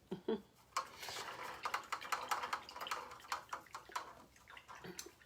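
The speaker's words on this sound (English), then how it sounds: "once I rinse my brush" A paintbrush rinses in a cup of water during an acrylic koi fish painting session, giving light clinking taps and watery swishes close by.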